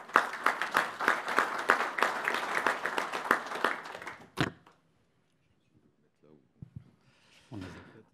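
A conference audience applauds a speaker at an agricultural cooperatives round table, dense clapping for about four seconds that stops abruptly with a thump, then near silence broken by faint knocks, shuffling and a brief voice.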